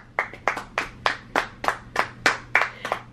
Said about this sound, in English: big sissies clapping